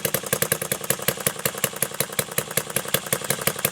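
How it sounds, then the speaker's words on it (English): A Retrol Musa HM-01 hit-and-miss four-stroke gas engine ticks over with a rapid, even clattering beat, each firing a sharp close knock repeating steadily throughout without any talk. "Until you get it, a very nice sort of tick over really."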